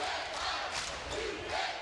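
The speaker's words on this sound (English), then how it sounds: "And you can hear them with their UNI chant." College basketball fans in an arena chanting together during a tournament game in the Virgin Islands, rhythmic crowd shouts rising and falling in about three pulses over a steady roar.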